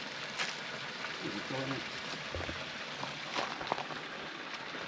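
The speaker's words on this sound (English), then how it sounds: "ASMR waterfall" A waterfall and creek along a hiking trail: steady rushing water noise, soft and even, with a few faint bumps and handling noises over it.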